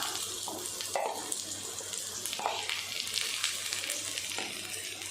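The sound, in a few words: sautéing onion garlic paste for sorrel leaf thokku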